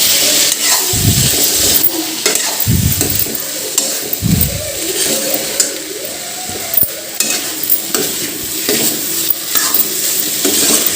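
Bari being stirred and fried in a pan of masala with tomato and potato for a leafy saag, with a steady sizzle and bursts of scraping spoon strokes against the pan, close and fairly loud.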